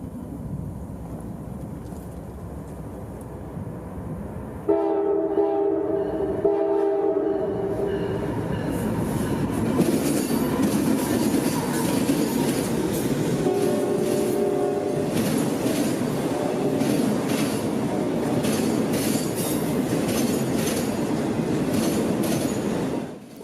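Northbound freight train X202 rumbles past loudly with a sustained roar, a K5LA multi-tone horn on the lead locomotive sounding in long blasts, followed by rhythmic clickety-clack of wheels on rails.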